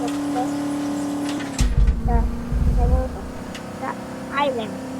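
Toyota Fortuner pulling away in first gear, a low engine rumble swelling into a loud, uneven surge for a couple of seconds before easing back, with some talk over the engine noise.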